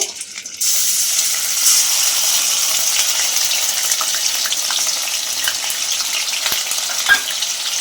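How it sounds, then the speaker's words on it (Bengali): Onion paste fries in oil with whole garam masala in a pan, giving a steady, close sizzle and crackle that carries on throughout, with occasional stirring scrapes and no voices. "পেঁয়াজ বাটাটা ভালো করে ভেজে নেব, যতক্ষণ না কাঁচা গন্ধটা যাচ্ছে ততক্ষণ আমি ভালো করে ভেজে নেব"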